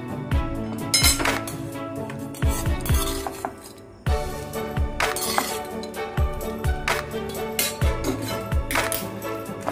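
A spoon stirring bread halwa with cardamom powder, ghee and nuts in a pan, giving repeated sharp metallic clinks and scrapes in an uneven rhythm, close and fairly loud.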